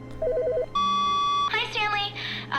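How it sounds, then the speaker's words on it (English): A telephone rings in The Stanley Parable video game, a series of clear electronic ring tones and beeps, loud and close, followed by a bright warbling chime pattern. "Let's see if this phone's ringing."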